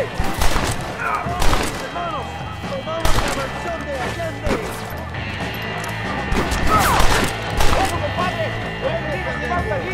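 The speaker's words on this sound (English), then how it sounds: "They have a machine gun!" Bursts of machine gun fire and crashing impacts in a Red Dead Redemption shootout, loud and repeated, mixed with game music and shouting voices throughout.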